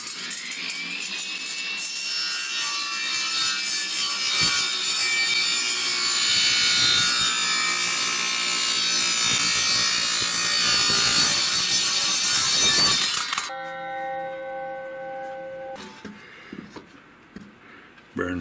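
A dull, burning saw blade cuts through hardwood on a table or chop saw, a loud sustained whining grind for about thirteen seconds that stops abruptly, leaving the motor winding down.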